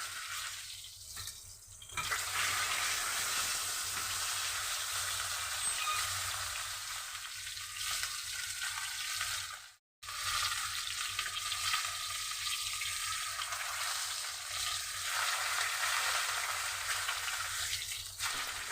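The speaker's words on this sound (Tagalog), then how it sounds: "And then piniprito ko lang muna ito. So lulutuin lang muna natin ito partially." Tilapia fish pieces are half-cooked in hot oil in a frying pan, giving a loud, steady sizzle that crackles continuously with a short break midway. No one speaks.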